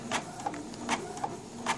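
Inkjet printer fitted with a CISS ink system running a print job, faint rhythmic mechanical whirs and clicks as the print head shuttles back and forth about every three-quarters of a second.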